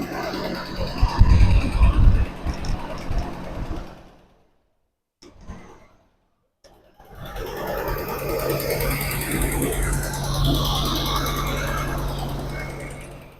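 A 1967 Lincoln engine runs with a steady, broad, near mechanical roar and low hum after a few seconds of silence, preceded by a burst of rougher handling noise.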